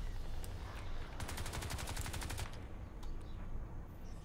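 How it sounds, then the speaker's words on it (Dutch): Rapid bursts of gunfire crackle in quick succession, a fast rattling volley in the middle with scattered single shots around it, fairly faint, in the video game Crysis 3 multiplayer. "ik kan twee schoten op hem lossen"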